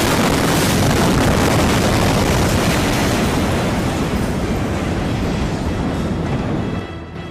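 An explosion in Beirut during a wedding produces a loud, sustained roaring rumble that fills the scene for several seconds and then starts to fade at the end.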